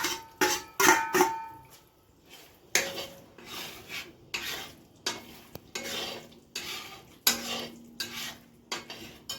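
A spoon scrapes and stirs whole spices (cumin, cloves, cardamom, bay leaf, black pepper) roasting in hot leftover oil in a metal pot, in repeated rhythmic strokes with clinks and a faint sizzle underneath.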